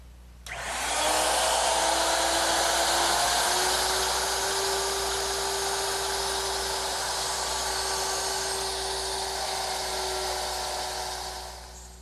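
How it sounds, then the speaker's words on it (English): A mortising machine cuts mortises into wooden table legs, starting with a sharp onset into a loud, steady whining drone with a sustained tone that holds for about ten seconds before easing off. "I've changed the bit to 1/4 inch, and I'll just mortise each of the legs."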